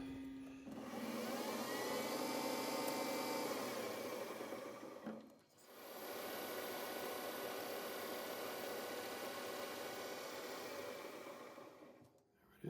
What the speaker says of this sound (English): And we got to drill a hole in it for a number 3 bolt.